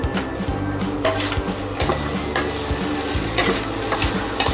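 Chicken liver and gizzards frying in a pan with coriander and cumin powder, a close, continuous sizzle broken by repeated scraping strokes of a spatula against the pan, with no voices.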